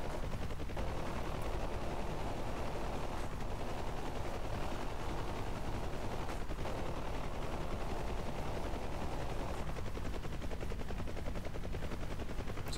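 Helicopter door gun fire in a multiplayer PvP helicopter battle game: a sustained, loud, dense stream of automatic fire over a continuous rotor drone for the whole stretch, with no talking.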